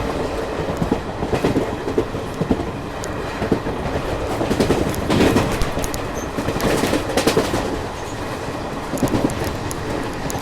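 The Chennai–Delhi Garib Rath Express runs along the track between Dholpur and Agra, its wheels beating a steady, rhythmic clickety-clack over a continuous rumbling roar of rolling carriages, loud and close.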